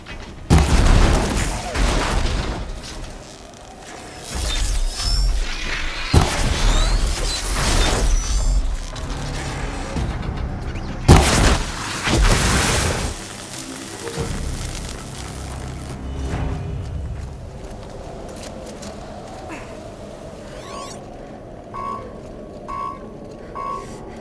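Explosions in the video game Horizon Zero Dawn, several heavy booms and blasts with mechanical clanks and creaks in between, loud and close, followed by a quieter stretch with faint beeping tones.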